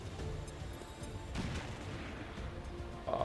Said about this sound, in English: So let's frag this guy.